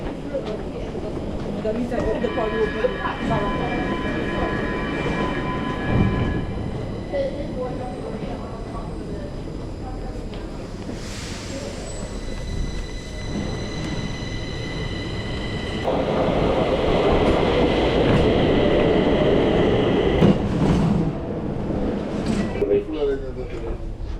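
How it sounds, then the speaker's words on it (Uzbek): Stockholm metro train ride heard from inside the car: steady rumble and rattle of wheels on track with brief squeals and chimes, an automated announcement near the end, and people talking over the noise. "Bu shahar metrosi."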